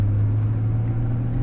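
Steady low hum of a 1987 Pontiac Fiero's mid-mounted engine heard from inside while driving, a constant droning rumble close behind the seat with no talking.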